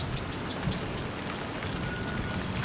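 Steady rain falling outdoors where a broken-down Cummins truck is being worked on, a constant dense hiss of drops on surfaces, even and without voices.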